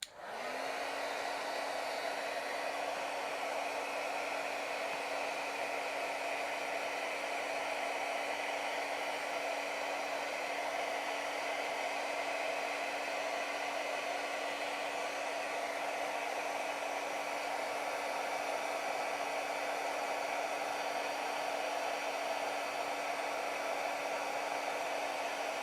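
A hair dryer runs continuously for about 25 seconds, drying scrapbook pieces, with a steady close whoosh of airflow and a constant motor whine after a quick start-up.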